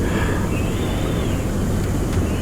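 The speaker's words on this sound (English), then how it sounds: "so we're in the helicopter. It's quite loud." Loud, steady rotor and engine roar from inside a helicopter in ArmA 3, a continuous wash of noise with a faint whine wavering above it and no voices.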